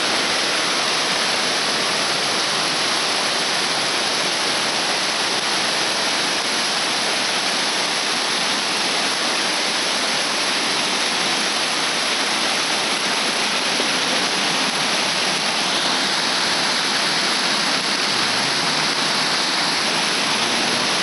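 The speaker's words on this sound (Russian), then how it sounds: "водопады, водопады." A constant, loud roar of the Zmeykovsky waterfalls, broad and unbroken rushing water filling the whole stretch without pause.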